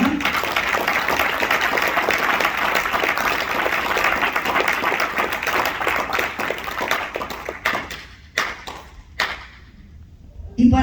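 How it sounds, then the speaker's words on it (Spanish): A church congregation applauds loudly and steadily for several seconds, then the clapping thins out into scattered claps before fading. "Démosle un fuerte aplauso al Señor"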